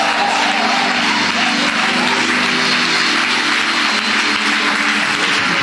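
A church congregation applauding to acclaim the Lord, with loud, dense, continuous clapping from a large gathering that fills the room without break.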